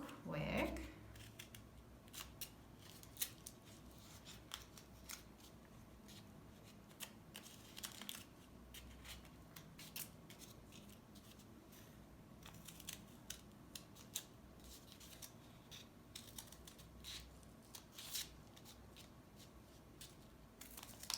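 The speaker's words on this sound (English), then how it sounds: "So let me just cut some stuff real quick." Scissors snip paper while cutting snowflakes, giving quiet, irregular crisp clicks and rustles spread across the whole stretch, faint and close with no talk over them.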